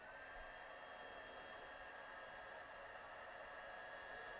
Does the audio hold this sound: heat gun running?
yes